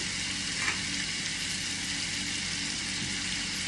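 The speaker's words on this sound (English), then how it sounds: "I'm going to put a few onions in here because I've got to cook those" Onions frying in a pan for homemade spaghetti, a soft even sizzle holding steady throughout, quiet and without speech.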